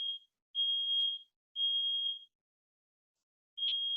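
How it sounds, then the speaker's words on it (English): High-pitched electronic beeps from a smoke alarm, three sustained tones with gaps and a short chirp, loud against silence. "there's the smoke alarm."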